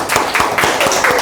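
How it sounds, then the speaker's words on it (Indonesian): A group of children clap their hands in a classroom session, giving a short burst of loose, uneven claps close by, ending in a few scattered strokes. "tepuk tangan anak-anak"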